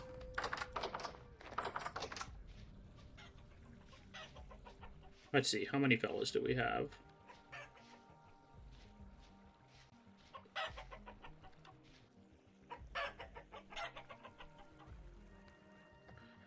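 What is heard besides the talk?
chickens clucking, hens in a coop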